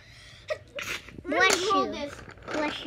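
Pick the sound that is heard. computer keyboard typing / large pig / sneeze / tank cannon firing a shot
sneeze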